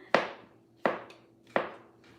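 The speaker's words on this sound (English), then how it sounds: "They said they could hear me over your chopping." A kitchen knife chops food on a board, three sharp evenly spaced thuds, close and clear with no voices over them.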